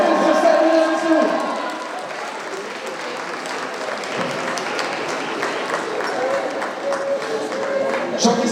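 An indoor crowd gives sustained applause and cheering for cosplay contest participants at a Geek Life cosplay event in Laval. The dense clapping runs throughout, with voices mixed in.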